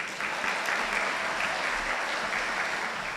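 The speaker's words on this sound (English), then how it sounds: "please a round of applause, ladies and gentlemen, for Marcia Brown." An audience at a 2018 Global Scholars Foundation gala applauds, steady, dense clapping from a crowd that holds at an even level throughout, with no talk over it.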